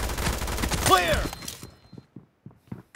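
Gunfire in the mobile battle royale game BGMI during a team match, a dense burst of shots filling the first second and a half, then sparse short pops and a few isolated shots trailing off with gaps of silence.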